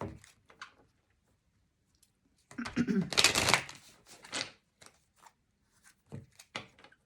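Oracle cards being shuffled by hand in quick bursts of riffling and flicking, close and crisp, separated by pauses with scattered soft taps, with a voice speaking quietly in places.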